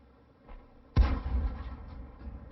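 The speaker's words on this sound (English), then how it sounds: "They were shooting at the medium and they overshot." A single heavy cannon shot from a World of Tanks battle involving the M10 Wolverine, a sharp boom after a faint earlier thump, followed by a rumbling decay.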